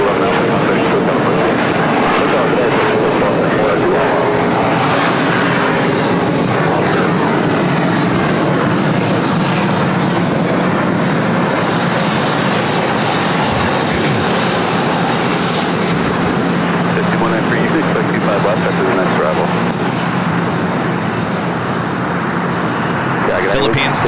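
Exec jets arriving at LAX produce a loud, sustained engine roar that fills the scene at close range and holds steady throughout, with voices talking over the noise.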